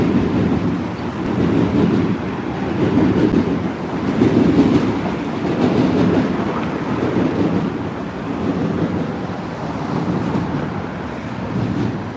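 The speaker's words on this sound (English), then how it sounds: "Good to hear the subway's running underneath." A New York subway train running beneath a Manhattan street, a continuous low rumbling roar that swells and eases, mixed with street ambience.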